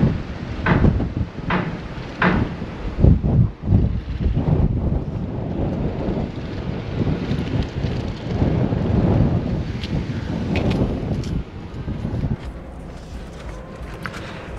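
Strong wind buffets the microphone in heavy rumbling gusts outdoors in a residential neighborhood of Summerlin, Las Vegas, with a few sharp thumps early on, continuing steadily throughout.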